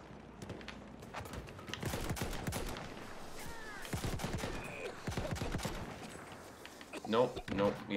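Pistol gunfire in Battlefield 1, rapid sharp shots in irregular bursts mixed with distant battlefield fire, heard under a player's talking.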